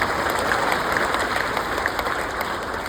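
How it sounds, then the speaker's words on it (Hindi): Dense, continuous clapping from a crowd at a Hindi kavi sammelan comedy poetry show, loud and rain-like, holding at a steady level with no voice on top. "आपकी तालियां चाहता हूँ साहब"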